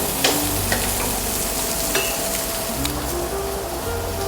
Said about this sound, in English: Let's go back to frying the tomatoes. Fry them for 50 seconds.